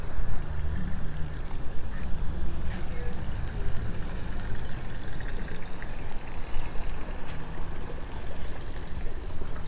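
A small water fountain or little waterfall at a flower festival in South Carolina gives a continuous, even splashing rush that stays close and steady throughout.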